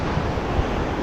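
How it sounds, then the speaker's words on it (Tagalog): Big ocean waves breaking along a beach shoreline during shore fishing, a continuous close roar of surf with wind buffeting the microphone and small surges throughout. "malaki yung alon dito sa gilid ng pasigan"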